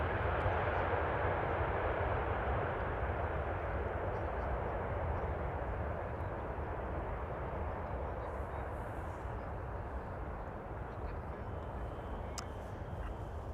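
KLM Boeing 777-200 airliner arriving at Schiphol, a steady, fairly loud broadband engine rumble and roar that fades slightly over the span, with no voices.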